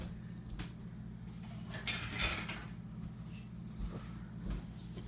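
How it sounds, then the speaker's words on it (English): A whisk stirs homemade dry brownie mix in a bowl, making faint, irregular scraping and clinking against the sides, with a few brighter rattles in the middle. "You just get down in there, whisk that together."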